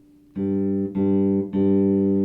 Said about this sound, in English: you want to pluck the string right beside the tip of your finger